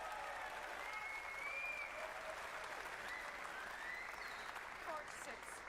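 Spectators at the 2022 Masters snooker final applaud Barry Hawkins after he pots the blue, a soft, sustained patter of clapping with a voice talking quietly underneath.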